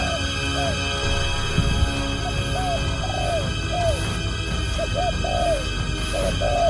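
Soft, repeated cooing calls of wild doves over steady background hum and noise, several short phrases spaced irregularly, moderately distant.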